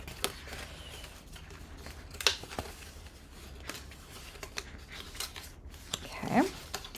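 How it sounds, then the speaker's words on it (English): A bone folder creases folded paper for a slide-and-lock candy box, giving soft, close scraping and rubbing with a few sharp crisp swipes near the end. "Let me fold these first, and then I'm going to crisp them with my bone folder."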